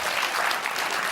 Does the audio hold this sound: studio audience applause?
yes